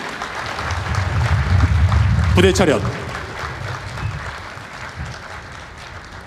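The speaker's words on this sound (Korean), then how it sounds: "수상자들에게 다시 한번 힘찬 축하의 박수 부탁드립니다." An audience applauds at a combined tri-service officer commissioning ceremony, a broad wash of clapping for a few seconds that fades as a loud voice calls out a parade command over the sound system.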